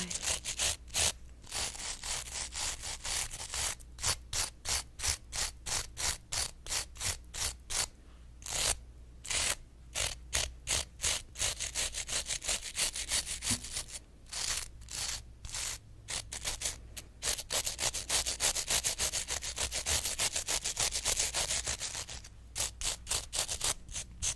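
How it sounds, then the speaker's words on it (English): Fingernails being cleaned underneath with a small nail tool, close and crisp, a long run of rapid rhythmic scratching strokes broken by brief pauses, with no talking. "Now that I cleaned under the nails"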